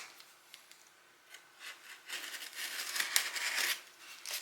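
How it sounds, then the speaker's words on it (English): Scissors cut open the cardboard packaging of a motorcycle dashcam, faint scraping and crinkling snips that grow busier and closer partway through. "my knife was dull, so I'm using my scissors"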